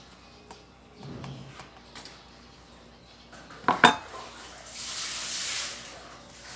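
Alamang shrimp paste being stirred in a metal pan gives scattered clinks and scrapes of a utensil against the pan, a sharp cluster of metallic knocks in the middle, then a soft hissing sizzle toward the end.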